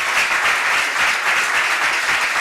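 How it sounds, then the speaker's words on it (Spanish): An audience applauds a lecturer named José Antonio at the close of a science-week conference, a dense, steady wash of clapping that fills the room loudly from start to finish with no voices over it. "quería que le diésemos un aplauso a José Antonio por el esfuerzo que ha hecho"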